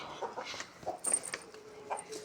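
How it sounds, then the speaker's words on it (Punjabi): Chickens cluck in short, scattered bursts, fairly close, with a few sharper calls mixed in against a quiet background. "ਮੁਰਗੇ"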